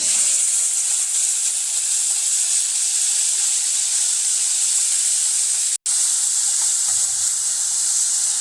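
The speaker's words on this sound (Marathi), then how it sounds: "भाज्या फ्राय करताना थोडा हाय लो फ्लेम आपण ठेवू शकतो." Frozen mixed vegetables frying together in a pan over fairly high flame, giving a loud, steady, close sizzle with a brief break midway.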